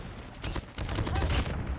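Hip-fire gunshots in Call of Duty Mobile, a quick burst of close, sharp reports landing in rapid succession over about two seconds.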